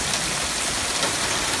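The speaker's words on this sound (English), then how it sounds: "It is hailing" Hail falls outdoors near an uncovered car, making a dense, steady patter of countless small impacts that stays even and fairly loud throughout.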